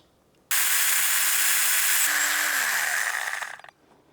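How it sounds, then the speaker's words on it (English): A small mini chainsaw buzzes loudly and steadily for about three seconds while pruning thick tree branches in a garden, its pitch sagging slightly before it cuts off. "this mini chainsaw will make the job a lot easier"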